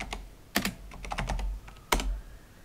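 Keys clack on a computer keyboard as a disk partition command is typed into the Windows command prompt, a quick irregular run of taps with two sharper strokes, close and alone.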